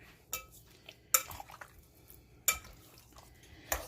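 Spiced chicken pieces for a garlic chicken dinner being mixed in a dish, giving a few sharp utensil-on-dish clinks spaced apart with soft scraping between, close and fairly quiet.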